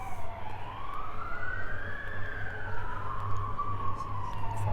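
A fire engine siren wails in the distance over downtown Regina, a rising and falling tone swelling and fading over low background traffic and street hum.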